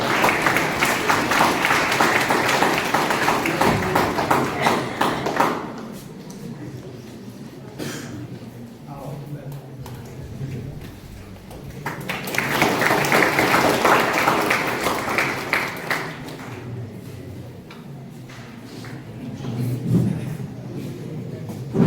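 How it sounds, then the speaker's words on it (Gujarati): Applause from an audience at a college education festival in an auditorium, two bursts of clapping separated by a quieter gap with some murmuring. "જોરદાર તાળીઓથી વધાવીશું"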